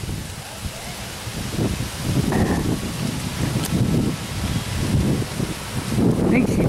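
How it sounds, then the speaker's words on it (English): Strong wind gusts buffet the microphone outdoors, a steady roar with surging low rumbles and rustling throughout, no talking. "Boy, that wind."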